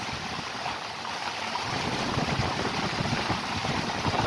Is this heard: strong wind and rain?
yes